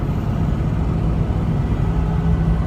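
A turbocharged car engine drones low and steady on a test drive, building boost in a continuous rumble heard from inside the vehicle, with no clear peaks.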